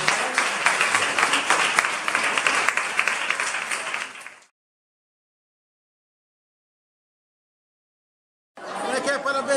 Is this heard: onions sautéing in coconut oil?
no